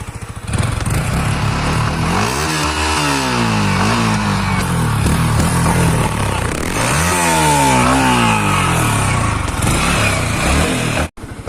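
Yamaha R15 V4 motorcycle idling loud and close, its engine and exhaust buzzing steadily, with two strong revs that climb and fall back, then a brief cutout near the end.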